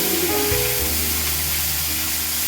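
A spice paste of cumin, coriander, turmeric, ginger and green chilli fries in hot oil in a pan, sizzling with a steady close hiss and a few brief low thuds near the start.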